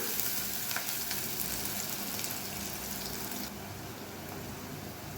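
Onion and garlic sauté in a pan with a steady, close sizzle and occasional stirring scrapes, the frying continuing at an even level and growing slightly softer toward the end.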